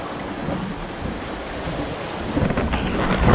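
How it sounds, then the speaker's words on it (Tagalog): Strong current and waves surge at a sea cave in Rizal, Palawan, at high tide: a dense, steady roaring wash with wind buffeting the microphone, swelling louder toward the end. "medyo malakas ang tubig, ang current"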